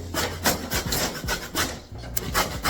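A whole lemon is grated for zest against a grater, giving close, rapid rasping strokes in an uneven scraping rhythm for a couple of seconds.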